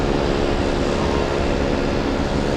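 A Boeing 747 airliner on the runway at Boston Logan International Airport, a loud, steady roar of jet engines heard from a distance as a continuous broadband rumble without pauses.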